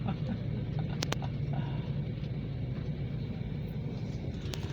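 A car rumbles steadily past on a narrow one-way road in Warnemünde, Germany, a continuous low drone at moderate distance with a couple of brief sharp clicks.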